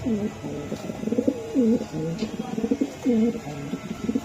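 Racing pigeons coo in repeated rolling, throaty phrases, close and fairly loud, with a steady low background hum and no talking.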